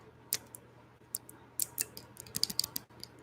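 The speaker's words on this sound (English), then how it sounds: "Clicking on computer keys." Quiet, irregular clicks of computer keyboard keys, a few scattered taps at first and then a denser burst of typing, close to the mic over a low steady hum.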